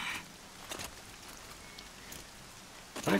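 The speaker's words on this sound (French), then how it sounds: "Fallait qu'on se tape la pluie, vous avez vu?" Soft, steady patter of rain in the Horizon Zero Dawn game world, faint and even, with a few brief louder rustles and splashes breaking through.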